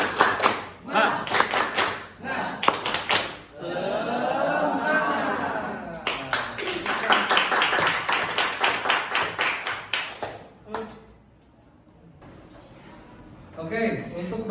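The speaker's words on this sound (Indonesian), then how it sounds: "Tepuk semangat." Students in a classroom performing a rhythmic group clapping cheer, with bursts of patterned claps in sync, a stretch of continuous clapping, and a teacher's voice and class chanting between rounds.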